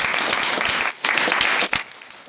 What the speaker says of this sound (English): Everybody give a round of applause, please.